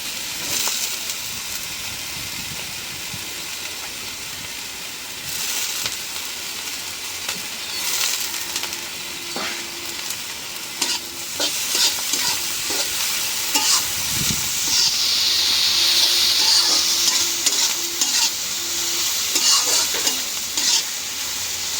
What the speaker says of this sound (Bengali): তেলে একটু ভাজে নেব।